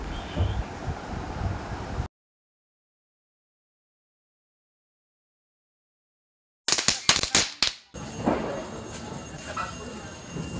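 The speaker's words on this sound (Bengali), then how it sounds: "তো চলো, আমরা বাজি ফাটাচ্ছি" Firecrackers burst during a Kali puja festival of lights, a rapid string of sharp cracks after a silent gap, followed by crackling and fizzing outdoors with faint voices.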